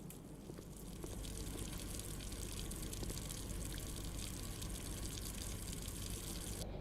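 Water runs continuously in the Blue Prince game, a quiet, steady hiss of flowing or gushing liquid that holds evenly for several seconds without speech.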